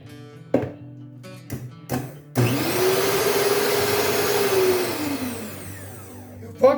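An electric mixer whirs steadily while beating chocolate cake batter with eggs and flour, preceded by a few knocks and clatters of bowl handling, then cuts off with a final clunk.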